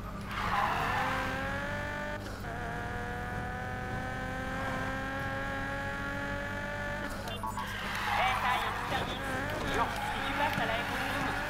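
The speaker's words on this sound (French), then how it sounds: "j'ai les pneus qui crient" Tires squeal and skid almost continuously from a race car in Need for Speed, a loud sustained screech over engine revving, breaking briefly and resuming, with a voice talking underneath.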